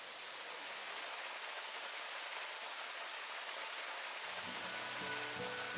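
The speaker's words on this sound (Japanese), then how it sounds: "こちらが蛇滝です。" Hebi waterfall in Tama, a steady hissing torrent of falling water heard up close, with low tonal music rising beneath it near the end.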